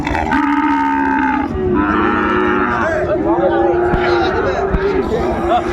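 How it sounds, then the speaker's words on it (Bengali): Several loud, drawn-out moos from a Sahiwal bull calf close by at a cattle market in Dinajpur, calling repeatedly, with people chattering in the background. "শাহিওয়ালের ষাঁড় বাচ্চা দেখছিলাম এখানে।"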